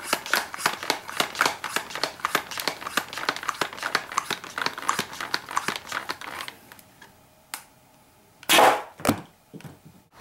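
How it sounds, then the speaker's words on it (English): A modded Nerf-style Borderlands 2 Hyperion shotgun replica fires in a rapid run of sharp snapping clacks, then slows to a few isolated shots and a louder mechanical rattle near the end, close by. "So as you can see from the firing demo, this gun shoots incredibly hard."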